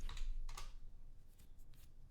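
Quiet, close clicking of keys on a computer keyboard as a single word is typed, a short burst of irregular taps.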